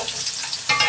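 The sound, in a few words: potatoes frying in a pan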